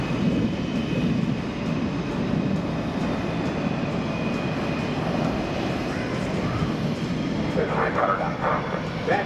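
An F/A-18F Super Hornet jet makes a high-speed pass at the NAS Oceana airshow, a continuous loud broadband roar sustained throughout with faint crowd or commentary sounds toward the end.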